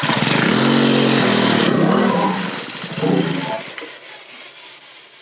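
A Craftsman string trimmer's small two-stroke engine runs loudly up close, buzzing at high revs, then drops off and surges briefly before fading out as it warms up after sitting unused for a long time.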